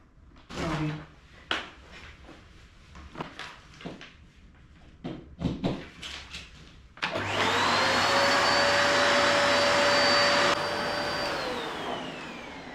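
A new household vacuum cleaner from Kmart, set up in a Melbourne home, switches on partway through with a loud steady whine and roar after several clunks and taps of parts being handled and attached.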